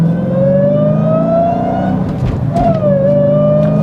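A Dodge Challenger launching hard in valet mode roars up through the revs, dips briefly at a shift, then climbs again, loud and close throughout.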